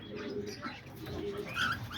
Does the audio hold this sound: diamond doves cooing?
yes